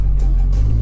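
Deep, steady low rumble from beneath a damaged Nissan Tsuru (Sentra B13), a constant drone close by with no talking over it.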